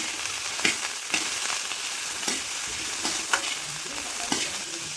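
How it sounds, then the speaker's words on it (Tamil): Shallots and garlic fry for a kara chutney in a pan, giving a constant bright sizzle punctuated by several short stirring scrapes at an even pace, close and moderately loud. "இது நல்லா ஃப்ரை பண்ணி எடுத்துக்கலாங்க."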